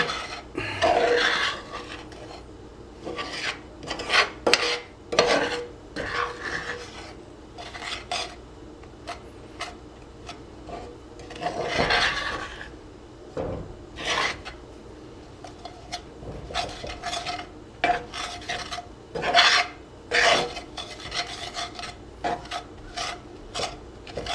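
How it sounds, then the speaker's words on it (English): Cookie dough for an iron skillet cookie is scraped and mixed in a bowl, the utensil rasping and rubbing against the sides in repeated close strokes of uneven rhythm, with no talking. "Keep scraping the sides. Get all mixed up in there good"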